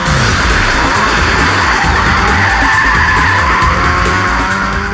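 A car drifting at an Australian motorsport event skids with loud, sustained tyre squeal over a roaring engine, one unbroken screech that stays close and dominant throughout.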